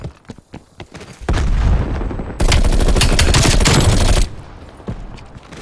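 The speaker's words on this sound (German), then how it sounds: "Granate geht raus." Gunfire and a grenade blast in a Call of Duty Black Ops Cold War multiplayer match: a few sharp shots, then a long loud roar of dense rapid fire and an explosion that fades into scattered echoing shots.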